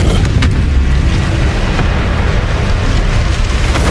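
Incendio fire spell cast in Hogwarts Legacy, producing a loud, dense roar of flame and rumble that stays steady and close throughout with no pause.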